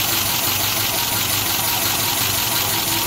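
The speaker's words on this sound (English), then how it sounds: "it sits making engine noises" A 1951 Pontiac Chieftain engine idles loudly and steadily, a rough continuous rumble with a throbbing low beat and broad hiss throughout, its exhaust holed.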